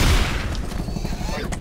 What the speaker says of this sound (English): In the process of shooting zombies.